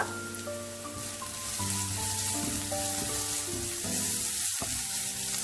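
Coriander powder sizzling in a pan while tomato chutney is being made, a steady close crackling fry that holds throughout, with soft tonal background music underneath.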